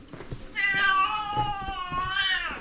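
A cat in a courtyard of the old medina in Fez, Morocco, gives one drawn-out, tonal meow followed by a shorter second meow. The sounds are close and clear, and faint street noise runs underneath.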